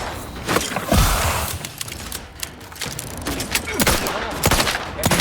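Gunfire in The Outer Worlds 2: rapid bursts of shots and sharp cracks fired in quick, irregular volleys, loud and close, with mechanical clatter between them.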